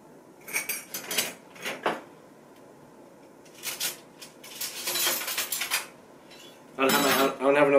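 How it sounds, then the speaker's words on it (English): A metal fork mixing flour, salt and baking soda in a bowl scrapes and clinks in quick bursts with short pauses between them, close and fairly loud, ending in a heavier rattling stir. "I don't have another whisk, so I have to use a fork."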